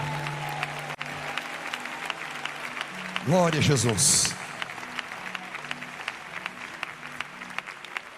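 A church congregation claps steadily through the whole stretch of a worship service. A voice calls out praise over the applause with a brief swell of shouting partway through.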